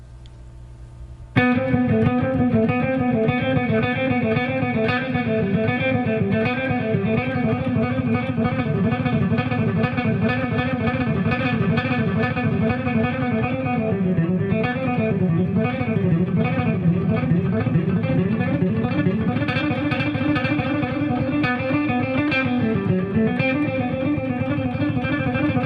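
Distorted electric guitar with effects plays a continuous run of randomly combined rock technique exercises, loud and up close, with shifting melodic lines and bends and no talking.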